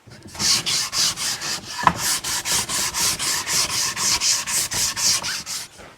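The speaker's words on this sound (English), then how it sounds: "We're going to get the rest of the pieces sanded." Wooden trim pieces being hand-sanded for a home entranceway makeover, a steady rhythmic back-and-forth rasp repeating about three times per second, close and alone with no talking.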